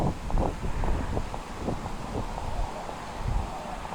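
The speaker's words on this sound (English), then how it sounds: "Super fucking windy, though." Strong wind buffeting a microphone in a small park, a steady low rumbling roar with gusts swelling and easing throughout.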